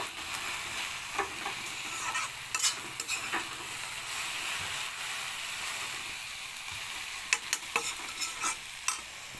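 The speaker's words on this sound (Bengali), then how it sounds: "মিক্স করে নেব।" Scrambled egg omelette fries in a pan with a soft, steady sizzle, while a utensil stirs and scrapes it, making scattered clicks and taps against the metal.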